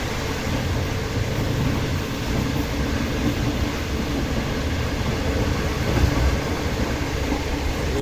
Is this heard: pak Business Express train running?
yes